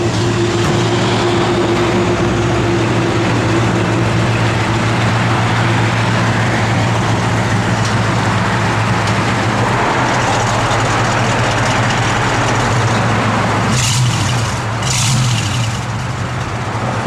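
The engine of a 1964 1/2 Ford Mustang runs at a steady idle with a constant low hum throughout, loud and close, with a couple of brief higher-pitched noises near the end and no talking.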